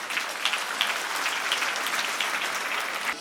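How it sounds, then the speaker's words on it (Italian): A crowd claps steadily at an outdoor festival in Nuoro, Sardinia, a dense patter of hands at moderate volume with no voices over it. "Eccola qua, un applauso alla Presidente Alessandra Todde."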